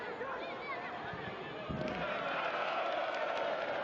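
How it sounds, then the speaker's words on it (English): A large crowd of Malawian supporters roars from the far side of a stadium during a COSAFA Cup football match against Namibia, a broad distant cheer swelling midway and holding steady to the end. "Look at that massive cheer from that Malawian supporting contingent on the opposite side of the ground"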